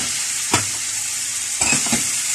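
Chicken breasts fry in a pan with a steady, bright sizzle. Two or three short bursts break through as pieces are dropped in or moved.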